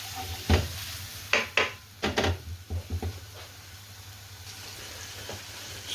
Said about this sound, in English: So just sizzle those, get everything to a good temperature.